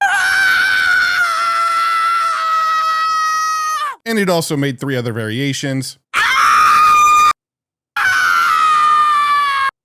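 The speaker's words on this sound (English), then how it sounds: "All very similar, all very Wilhelm screamy, but all also very loud." AI-generated Wilhelm scream variations from ElevenLabs: several loud, drawn-out male screams in a row, separated by short pauses, with a voice speaking briefly between them.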